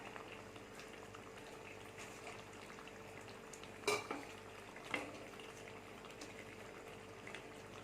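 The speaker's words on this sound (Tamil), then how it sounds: "எல்லாத்தையுமே போட்டு நல்லா கிளறி" Chicken kothu is stirred in a pan on the stove, giving a faint, steady sizzle with a few brief scraping and clinking knocks of the utensil against the pan.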